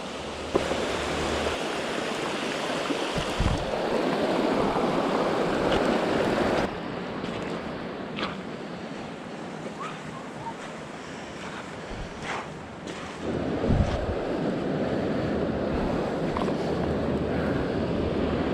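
Rushing water of the White River in Vermont, steady broadband flow heard close and fairly loud, with wind buffeting the microphone and level shifts as the position changes; no talk.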